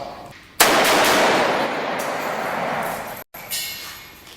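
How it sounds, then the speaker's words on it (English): An AK-47 fires at an armored car in a loud, sustained burst of nearly three seconds, then after a brief gap a shorter burst follows, heard close with no talking. "This is my AK-47, and today I get to shoot my boss."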